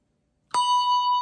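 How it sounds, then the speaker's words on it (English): A single handbell struck once after a moment of silence, giving a bright, clear ring with a sharp onset and a long sustained tone that hangs on without fading, close and loud. "So if you hear it like this bell is ringing, but this bell is not."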